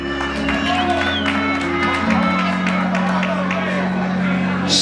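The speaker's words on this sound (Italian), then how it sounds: "un bel applauso a lui" An audience applauds at a seaside concert on the Mondello promenade, a steady wash of clapping mixed with voices and sustained musical tones.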